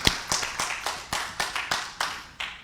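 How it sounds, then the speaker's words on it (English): A small number of people in a church congregation clap at Unity Village, sparse distinct hand claps at a slow, uneven pace, fairly close and not merged into a full ovation. "And let's give Kevin a round of applause."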